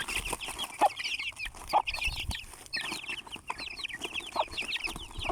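A flock of hens and roosters in a Turkish coop clucks and chatters continuously, with overlapping calls near and far and a few louder squawks, and no one speaks.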